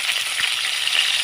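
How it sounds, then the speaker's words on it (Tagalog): Steady, fairly loud sizzling of beef frying in a hot pan for bistek tagalog, with faint crackles and pops and no talking. "Ito, nalagay na natin yung beef natin. Prito lang natin dyan saglit."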